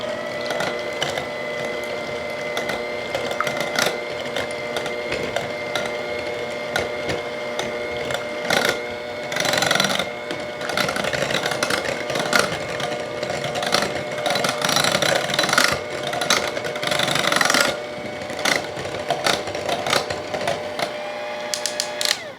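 Electric mixer blending butter with baking ingredients in a home kitchen, a steady mechanical whir with shifting pitch and a few louder surges, running alone without talk throughout.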